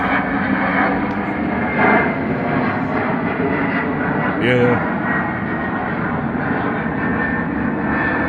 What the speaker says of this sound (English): It's loud planes.